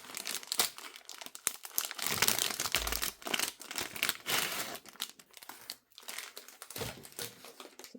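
A pack of sandpaper handled up close, giving loud, continuous crinkling and crackling of packaging in irregular bursts with brief pauses.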